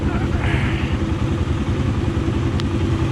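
A Royal Enfield Himalayan motorcycle pulls away with a steady, loud mid-pitched engine note, close by, and a brief click near the end.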